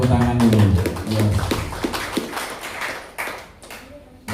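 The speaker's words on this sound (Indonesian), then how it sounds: "Kita berikan tepuk tangan dulu." Audience applause breaks out at a church leadership installation ceremony for a regional board, with a voice talking over the opening before scattered claps carry on under the hall's murmur.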